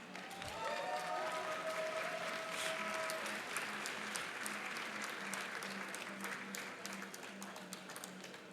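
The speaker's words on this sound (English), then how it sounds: "You can clap for that." An audience at a charity speedrunning marathon event bursts into applause, sustained clapping from a large crowd that holds steady and slowly thins, with a faint voice early on.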